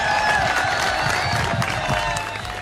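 A large crowd at a celebration in Pakistan applauds and cheers for meme makers, a loud, continuous wash of clapping and shouting that barely dips over a few seconds.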